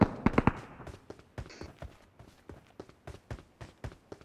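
Gunfire in the mobile battle-royale game PUBG Mobile on the Livik map: a rapid opening burst of shots, then a steady run of sharp, evenly spaced cracks, fairly close and loud with no talk.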